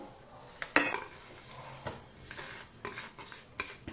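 Chopped nuts are scraped and tipped onto a plate for a puffed-rice sweet, with faint utensil clinks, scraping and light taps close by. One sharper clink stands out early, and the rest stays quiet, with no speech.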